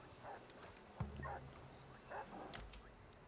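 Great Dane in the video game Stranded: Alien Dawn gives a few short barks and whimpers, faint and intermittent over quiet game ambience.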